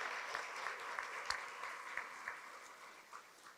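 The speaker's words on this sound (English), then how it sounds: "A big round of applause for all of you guys for making today possible." Audience applause at a luncheon event, a steady wash of many hands clapping with a few sharper individual claps standing out, moderately distant and filling the room without any talk.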